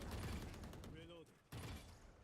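Quick, muffled bursts of gunfire fired into smoke during a competitive Valorant esports match, fairly quiet and under a commentator's voice, with a short lull before the shooting resumes.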